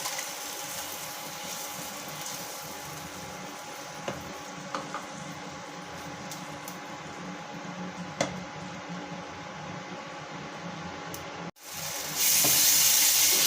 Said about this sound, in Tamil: ரெண்டு தக்காளி நான் அரைச்சி வச்சுருக்கேன் அதை ஊற்றிடலாம்